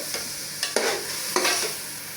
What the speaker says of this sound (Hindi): और डालूंगी टमाटर।